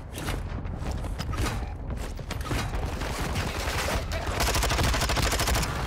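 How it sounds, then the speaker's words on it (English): Rapid gunfire in a video game, a loud sustained barrage of dense automatic shots that rattles on without pause, with faint voice traces underneath. "Taking effective fire."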